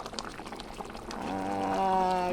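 Ghee poured into a simmering katla fish curry: a soft liquid pour over a bubbling boil, rising into a steady, close, moderately loud simmer in the second half, with no voices.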